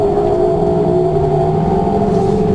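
A Ford SVT F-150 truck at the SEMA Show 2010 climbs a hill, its engine drone steady and loud up close, with a strained whirring tone held throughout and no talking.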